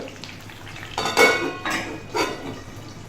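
A metal lid clinks and rattles onto a kadhai of peas being steamed, twice, with soft scraping between the sharp contacts, close and fairly quiet.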